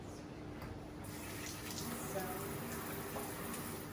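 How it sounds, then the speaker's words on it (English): Running tap water streams steadily and softly while hands are washed at a sink before fermenting vegetables. A faint voice is present beneath the flow. "So first thing we want to do is wash our hands."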